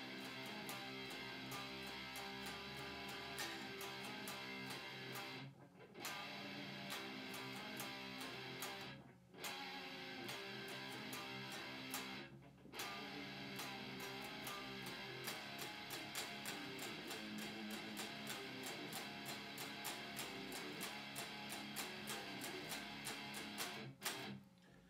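Electric guitar riff played five times in a row, a dense, steady strummed pattern with short gaps between repeats, loud and close with no talking.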